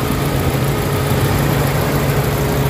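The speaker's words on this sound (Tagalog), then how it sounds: "Ayan, ma-andar na siya. Kita niyo yung andar, tahimik." Honda Fit engine idling smoothly and quietly after a head gasket top overhaul, a steady low hum with no knocking, close and alone.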